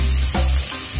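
Onion dropped into a hot pan for a stuffed potato filling, sizzling loudly and continuously up close, with a brief stirring scrape near the middle.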